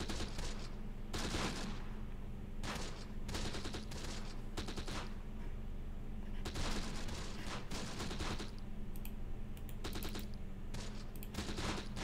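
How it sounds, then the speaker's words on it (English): Rapid bursts of small-arms and machine-gun fire crackle through a battle in the wargame Close Combat: The Bloody First, with dense overlapping volleys and short pauses between them, loud and continuous over a low rumbling backdrop. "They're already opening fire, as a matter of fact."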